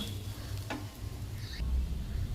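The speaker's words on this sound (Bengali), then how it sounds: "এবারে এটাকে ভাজবো" Semolina fries and is stirred in a pan, producing a quiet, short sizzle with a brief scrape of the spoon and no voices.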